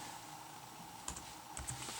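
A few quick key presses on a computer keyboard while a number is typed in, light clicks bunched near the end over a quiet room hum.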